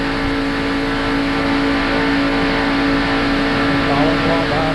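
A NASCAR race car engine at the 1991 Winston 500, heard from an in-car camera, holds a loud, steady high-revving drone with a strong tonal whine throughout.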